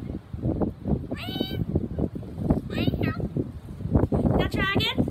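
A cat meows a few times, short high calls spaced apart, over a steady low rumble and soft background noise.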